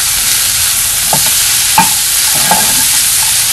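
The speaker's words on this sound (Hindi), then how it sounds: "इसको जरा सा पका रहे हैं ताकि इसमें थोड़ा फ्लेवर आ जाए" Chicken seasoned with black pepper cooks in a pan with a loud, steady frying hiss and a few soft utensil knocks, heard up close with no voices.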